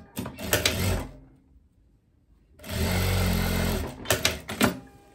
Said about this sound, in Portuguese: Fiz a costurinha ali